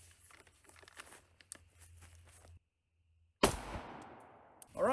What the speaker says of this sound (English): We're gonna go ahead and shoot it a few more times.